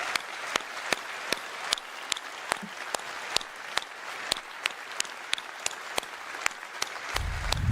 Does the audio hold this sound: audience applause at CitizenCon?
yes